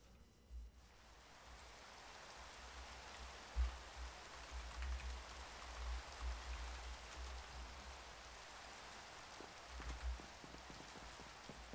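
Steady rain falls in the video game Minecraft, a continuous soft hiss of drops on surfaces with occasional low thumps, fairly quiet and even throughout.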